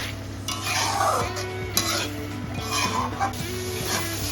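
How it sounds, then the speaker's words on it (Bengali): Tomato masala for a chicken curry frying in a pan, with a soft steady sizzle and several scraping stirs of a spatula against the pan. A constant low hum runs under the cooking, and no one speaks. "ভালো করে ভেজে নিন, যতক্ষণ পর্যন্ত না টমেটো কাঁচা গন্ধ যাচ্ছে।"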